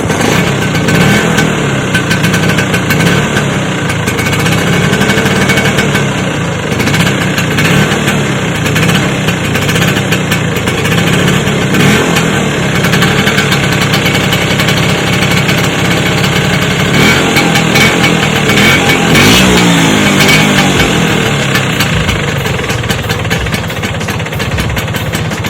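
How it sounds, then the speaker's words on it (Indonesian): Vespa two-stroke scooter engine running steadily and loud for the whole stretch, a raspy, buzzing idle with small fluctuations and no talk over it. "Kita melihat sebuah kayak sebuah Vespa yang ya kita lihat tadi tes mesinnya juga"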